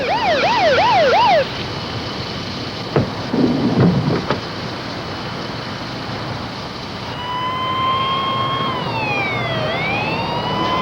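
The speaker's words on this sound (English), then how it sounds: "Hearing the sound of sirens, Rick drove toward them" Wailing emergency sirens sweep up and down, one cycling quickly at first, later a slower wail rising and falling, over a steady roar of rain or traffic.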